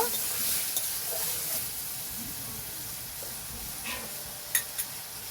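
Potatoes with salt and turmeric fry in a pan, giving a soft, even sizzling hiss with a few light stirring scrapes near the end, fairly quiet and close, no speech.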